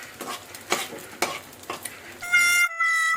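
Eggs fry in hot oil in a kadai, a low sizzle punctuated by several sharp spatula scrapes, followed by a brief, steady tonal hum near the end.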